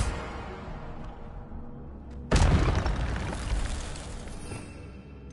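The Incendio fire spell cast in Hogwarts Legacy: a sudden loud fiery burst after a quiet stretch, followed by a roaring whoosh that slowly fades.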